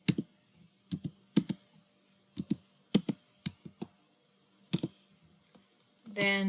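Sharp keystrokes clatter on a computer keyboard in short irregular bursts while a command is typed, close and fairly loud over quiet room tone, with a brief rustle at the end.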